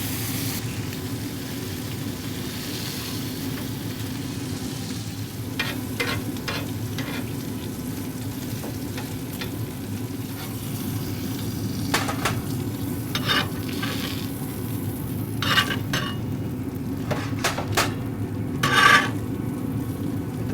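Bacon sizzling on the griddle of a Yoder YS640s pellet grill, a loud, steady hiss of fat crackling throughout, with occasional sharper pops and a few scrapes of a utensil.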